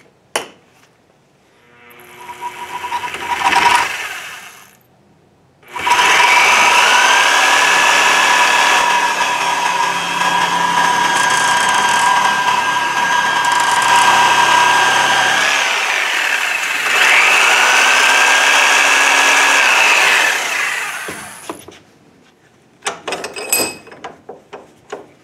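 A power tool cuts through a new steel bolt for a front runner fitting on a Brooklyn Pony build, a loud steady grinding whine that runs about fifteen seconds after a short burst and pause, then stops, with a few clicks after.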